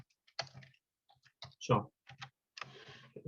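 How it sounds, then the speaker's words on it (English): Slow typing on a computer keyboard, a sparse series of separate clicks and key taps with short pauses between them, close and fairly quiet. "I will type slowly so that you can see what the font looks like in action. So here I'm typing merci mucho."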